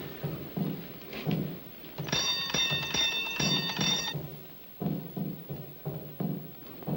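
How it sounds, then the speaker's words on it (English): A doorbell rings at a house door in the old film King of the Zombies, a bright chiming tone lasting about two seconds between soft, irregular thumps and footfalls. "You ring the bell."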